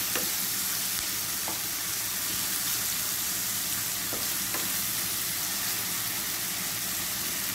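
Tomatoes fry in a pan for squid adobo, giving off a loud, steady sizzle with a few faint clicks under it, close by.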